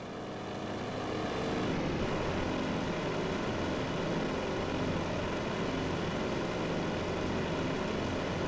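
A steady propeller-aircraft engine drone from a World of Warships plane holds at an even, moderate level throughout, without pause or change.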